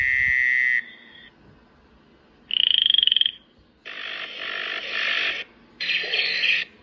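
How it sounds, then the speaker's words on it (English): A frog croaks in several loud, close bursts separated by short pauses, each call a buzzy, pulsing trill, with no talking over it. "Frog."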